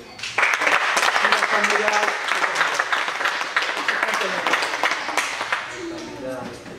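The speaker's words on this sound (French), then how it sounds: "On peut l'applaudir." Applause at a season-closing ceremony of a French combat sports club, a burst of clapping from the gathered audience that fades gradually while people talk over it.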